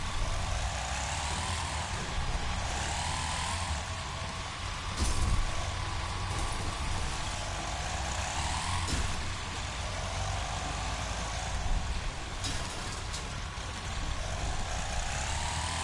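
A car engine in the Wreckfest racing game roars in a steady, loud drone with shifting revs and occasional bumps throughout, no talk.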